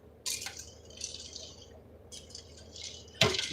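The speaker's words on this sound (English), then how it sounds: "I'm gonna just evenly distribute those beans so they get mixed." Beans being stirred into a pot of homemade chili with a mixing spoon: a few wet scraping and squishing strokes with soft clinks against the pot, close and fairly quiet, with no talk.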